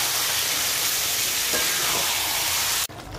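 Marinated chicken sizzles loudly in hot oil while being mixed with spices, a steady close frying hiss that runs throughout before stopping abruptly.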